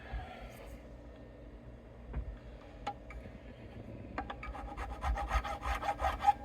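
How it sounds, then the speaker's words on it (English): Scraping and rasping as debris is cleaned out of the fret slots of a Fender guitar neck, faint at first, then a denser run of quick scratchy strokes building toward the end. "you can hear it just cleaning out the crap in the slots"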